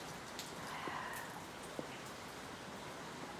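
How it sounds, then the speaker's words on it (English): Steady rain falling outdoors around a garage where a 1948 Ford truck with a flathead V8 is being worked on, heard as a soft continuous wash with a few scattered louder drops. "It's raining so nicely outside."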